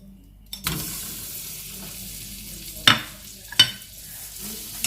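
Butter for a bechamel sauce melting in a pan, a soft steady sizzle starting abruptly and broken by two sharp scraping clinks of a utensil, close and without talk.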